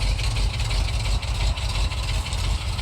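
A 1977 Jeep Cherokee Super Chief engine idling after a cold start, a steady low rumbling exhaust close by with no other sounds.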